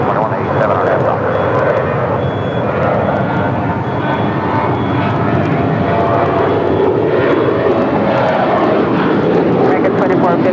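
An American Airlines jet takes off from runway 25 right at LAX, a loud, steady engine roar that holds throughout with airport ambience and faint radio chatter underneath.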